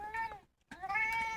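A cat meows twice, close and clear, with a short pause between the drawn-out, tonal calls.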